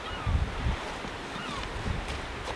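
Cold wind gusts through a park in Floimont, Tadoussac, Quebec, buffeting the microphone with low rumbling bursts and a steady airy hiss, no voices heard.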